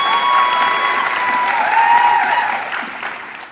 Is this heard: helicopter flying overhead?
no